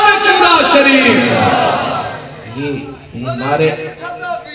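A crowd at a Sunni religious gathering chants slogans in unison, loud and reverberant at first, then answering in rhythmic call-and-response bursts with a voice over them.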